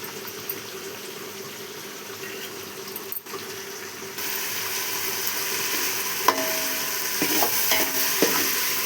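Rice ingredients are stirred and fried in a pan, giving a steady sizzle with scraping stirs that grow louder partway through, plus a few clinks near the end.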